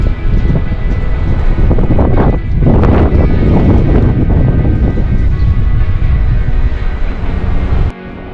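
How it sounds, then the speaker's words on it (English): Strong wind buffeting the microphone outdoors near Le Touquet and Calais, a loud continuous low rumble with gusty surges that drops away abruptly at the end. "today is very, very windy"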